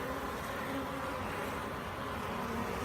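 Honey bees buzz steadily at an open hive during requeening, a dense, continuous close-up drone with no pauses.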